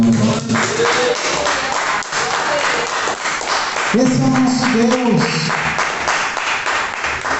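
A church congregation applauds in praise, a broad sustained clapping under a preacher's voice speaking in Portuguese over it.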